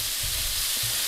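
Organic bacon sizzles and fries in a pan, a loud continuous crackling hiss with low bubbling pops and no voices.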